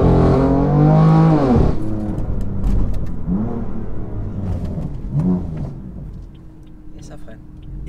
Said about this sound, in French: On va essayer une petite accel